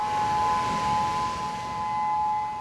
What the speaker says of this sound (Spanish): Las sirenas comenzaron a sonar no solo en el territorio japonés,